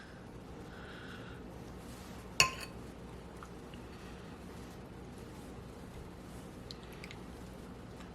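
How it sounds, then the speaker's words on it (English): A spoon scraping seasoning onto a plate of vegan, low-carb food gives one sharp metallic clink, with faint soft shuffling before and after in a quiet kitchen. "spoon some of that seasoning on there nicely."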